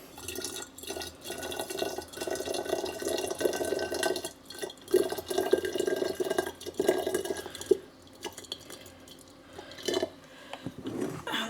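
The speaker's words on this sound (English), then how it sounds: "and then fill in some boiled hot water" Boiled hot water from a kettle is poured into a jar for water kefir, making an uneven liquid gurgle and splash. The pour has short breaks and faint glassy knocks, close by.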